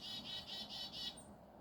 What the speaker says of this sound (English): Good morning, chickadee dee dee dee.